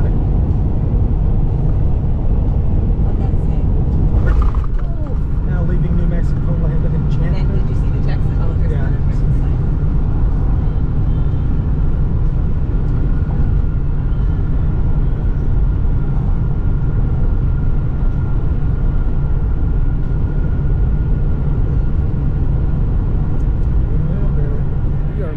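A truck driving on the road on the way to an RV dealer, a loud, continuous low engine and road rumble with steady tire noise and a brief bump early on, with people talking inside.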